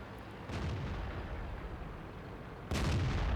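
Tank gun fire from a Pz 58 Mutz medium tank in World of Tanks: two heavy booms about two seconds apart over a loud, rumbling engine and battle background.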